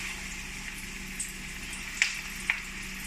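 Onion bhaji batter frying in a pan gives a steady, fairly quiet sizzle with a few brief crackles and pops standing out near the end, with no talk.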